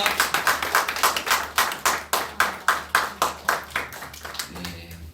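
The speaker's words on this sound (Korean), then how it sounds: "우리 큰 박수 부탁드리겠습니다" A church congregation claps together in a steady, rhythmic beat at a worship service on the Lunar New Year holiday, about a dozen loud, evenly spaced claps carrying on alone.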